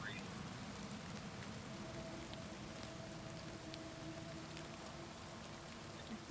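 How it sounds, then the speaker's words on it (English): Rain patters steadily as a dense, soft hiss inside a dungeon in Oblivion Remastered, continuous and fairly faint throughout, with a voice talking over it. "I can hear the rain like it's in the building. I hear it pattering."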